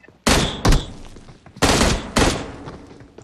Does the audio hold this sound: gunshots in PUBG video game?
yes